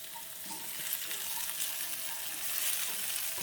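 Chicken sears in a pan of hot oil, giving a loud, steady, close sizzle with crackling spatters and no voices.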